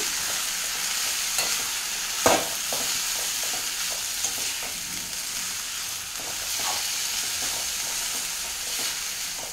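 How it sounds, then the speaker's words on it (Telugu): Dill (soya) leaves being stir-fried in a pan in a Telugu home kitchen, a steady close sizzle and hiss broken by repeated scraping stirs, with one sharp clatter near the start and no talk. "ఇది పచ్చివాసన మొత్తం పోయేంత వరకు ఫ్రై చేసుకుందాం అండి"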